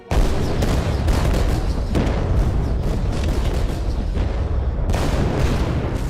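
Field artillery in the Battle of Monmouth of the Revolutionary War, a dense, unbroken roar of cannon fire and booming blasts, loud and continuous with heavier surges throughout.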